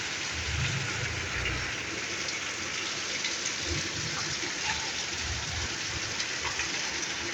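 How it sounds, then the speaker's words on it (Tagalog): Heavy rain pours down in a steady, dense roar that holds evenly throughout, with a low rumble swelling underneath at times. "Binuhos na, na naman po ang ulan."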